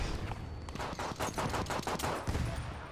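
Rapid bursts of gunfire in Battlefield 1, a fast rattling stream of sharp shots, fairly quiet and steady for a few seconds without speech.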